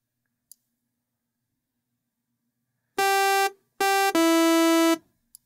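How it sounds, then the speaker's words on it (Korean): A buzzy sawtooth-wave synthesizer tone from Cubase sounds in three loud sustained notes after a quiet stretch, the middle one short, the last longest, with small clicks around them. "톱니파형 소리가 나고 있고요."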